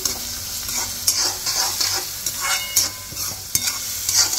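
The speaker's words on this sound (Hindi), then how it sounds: "अदरक लहसन की पेस्ट को भून लेंगे हम" Ginger garlic paste fries in a hot pan, a steady close sizzle broken by frequent scraping stirs of a spoon against the pan.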